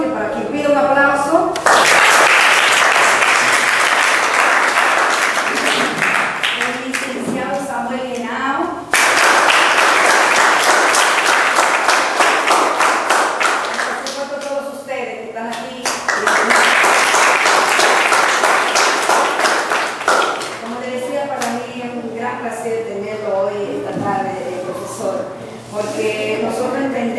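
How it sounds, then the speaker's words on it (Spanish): An audience applauds at a children's literary circle event honoring a professor, loud sustained clapping in three long bursts, with a voice talking in the gaps between them. "para quien pido un aplauso"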